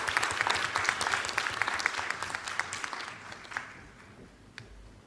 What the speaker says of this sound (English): please give them a big applause